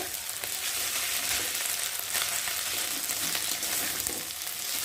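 Masala paste made with fresh ground turmeric and onion fries in oil in a pan, a dense, continuous sizzle heard close up with a few scrapes of stirring.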